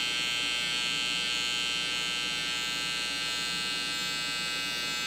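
Electric hair clipper or trimmer cutting a hairline during a taper fade on curly hair, a close, steady high-pitched buzz with slight variations as it moves over the hair, continuous and alone.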